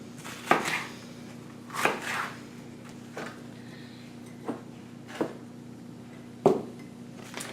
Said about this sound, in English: I probably will give them a few chops, big chops